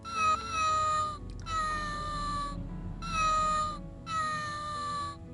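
Soft melodic music plays steadily while a cat-like meowing tone threads through it, with no talking.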